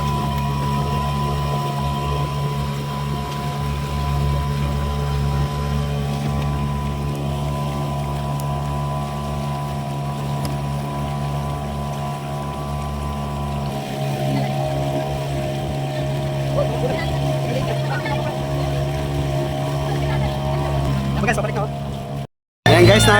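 Small outrigger boat on choppy water during island hopping off Lian, Batangas, with a steady engine drone and waves sloshing against and into the hull, voices talking over it throughout.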